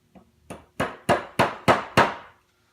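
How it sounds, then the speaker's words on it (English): A hammer taps a nail into a mounting hole of a banjo tuning peg, giving six short, sharp metallic knocks that grow louder and land at an even pace, close up. "So just put your nail into one of the mounting holes on the tuning peg. Give it a couple of taps."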